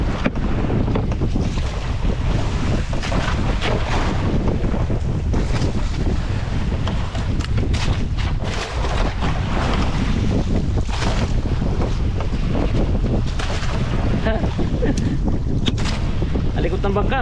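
Continuous loud wind buffeting and water rushing around a moving small Filipino bangka boat, with steady engine-like rumble throughout and no clear talking.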